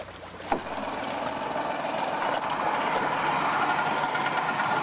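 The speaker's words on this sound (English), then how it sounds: "We're going to start the starboard engine." The starboard engine of an old catamaran project boat from the 1970s fires up with a brief bump, then settles into a steady, rising mechanical drone.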